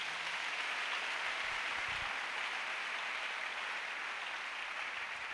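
Congregation applauding in a church during a French-language sermon, a steady, soft wash of clapping held at even level throughout, somewhat distant, with no voices over it.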